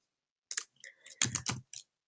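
Quick bursts of clicking keys on a computer keyboard, a handful of close, crisp keystrokes typed in short clusters with brief pauses between, no voices.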